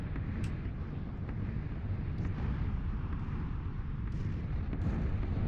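A low, rumbling explosion rolls through a bombing zone in PlayerUnknown's Battlegrounds. It sounds distant and muffled, a sustained deep roar with a few faint sharp pops over it.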